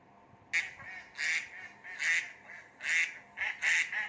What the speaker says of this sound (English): Next bird over here is duck. Duck is a water bird.